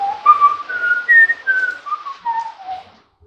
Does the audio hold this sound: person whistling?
yes